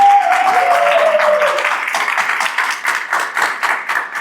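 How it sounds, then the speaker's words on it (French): A game show audience claps for a departing contestant on a Pop the Balloon dating show, a loud, dense round of applause that rises and then wavers, with a brief tone fading at the start. "Applaudissez-le, s'il vous plaît."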